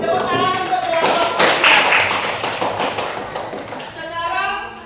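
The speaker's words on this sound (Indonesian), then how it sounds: "Tepuk tangan untuk kelompok" A group claps hands together in a classroom-style gathering, loud and close, with busy rhythmic clapping and overlapping voices throughout.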